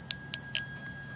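Three quick, light metallic taps on a small Western Electric 500DM telephone bell, each leaving a brief bright ring in a quiet room.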